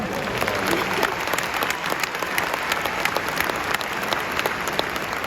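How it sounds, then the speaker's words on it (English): A crowd at a Cumberland Valley 2025 graduation ceremony applauds the class valedictorian, steady, dense clapping sustained throughout with no pauses, loud and fairly close. "give him a round of applause"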